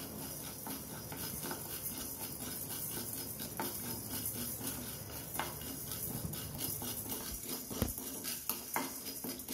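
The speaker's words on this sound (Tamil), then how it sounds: "அடுத்தது மல்லியும் வெறும் வானல்ல வறுத்துக்கலாம்." Coriander seeds dry-roasting in an empty pan for flax seed idli podi, a faint, steady rustle with light scraping and occasional clinks from stirring.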